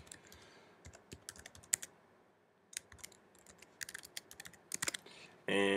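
Computer keyboard keys clatter in quick, uneven bursts of close, crisp clicks with short pauses while registration details are entered, followed by a sudden louder burst at the very end.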